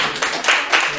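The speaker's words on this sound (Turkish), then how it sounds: "çok büyük bir alkış hak ediyor" Applause at the opening of a cultural and arts association workshop, a brief dense burst of many hands clapping, close and loud, with voices underneath.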